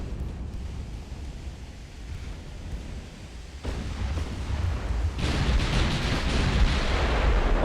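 Battleship gunfire in the naval game Ultimate Admiral: Dreadnoughts, a deep rumbling boom that swells midway and builds into a louder, sustained roar of distant heavy guns.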